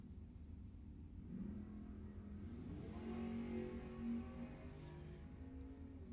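Oldsmobile and Camaro drag racing cars launch at a Lebanon Valley Dragway event, engines rising into a low, rumbling roar that swells and fades, heard at a distance and fairly faint.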